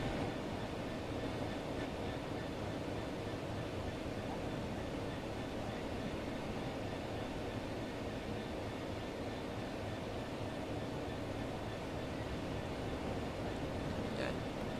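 Freight wagons roll along the Southeastern High Speed line in Train Sim World 4, a steady, faint rumbling clatter that holds evenly throughout with no distinct breaks, and no voices.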